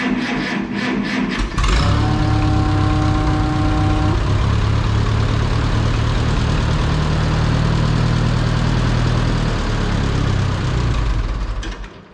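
Oliver Super tractor engine running after start-up on old gas, with fuel reaching the carburetor too slowly: brief uneven sounds, then a loud, steady, close-up rumble that holds for about ten seconds before cutting off.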